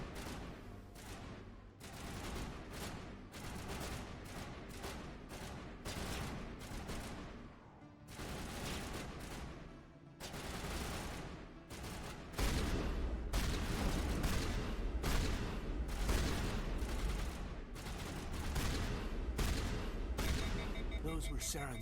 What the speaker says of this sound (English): This is why I use a shotgun, guys.